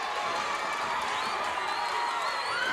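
Wrestling arena crowd cheering DiBiase in an early-1980s Mid South Wrestling match, a dense, loud, continuous roar of voices with whistles and shouts layered on top.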